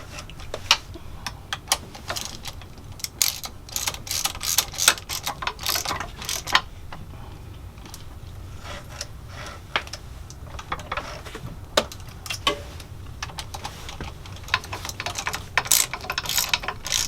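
Ratchet clicking in repeated short bursts while snugging down and evenly tightening the bolts on a Lugger/Northern Lights PTO clutch, close and fairly loud, with no talking.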